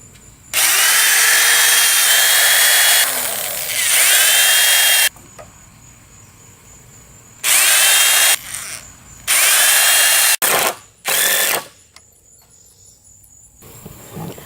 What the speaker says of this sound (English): I'm going to drive a pilot hole into the main frame